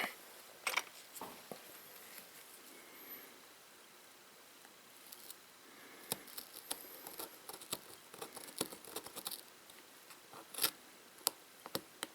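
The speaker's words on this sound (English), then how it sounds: "Now I'm just going to take my pattern and cut it out." Scissors cut a paper pattern in short, quiet snips and rustles, irregular clusters of clicks and crinkles close by in an otherwise quiet room, with no voices.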